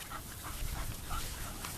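A small bulldog pants in quick, breathy huffs, close and quiet, lasting under two seconds.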